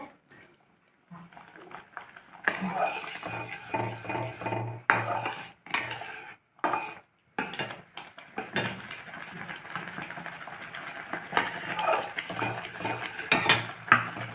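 Semolina roasting in a pan for a Satyanarayana puja prasadam, with repeated scraping and clattering of a spoon against cookware in bursts, broken by brief pauses, close and fairly loud.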